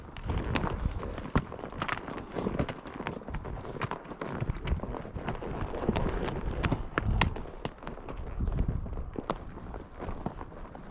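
Shod horses walk over rocky ground on a ride toward the mountains, their hooves clip-clopping in a steady, uneven rhythm of sharp, close strikes with no talking.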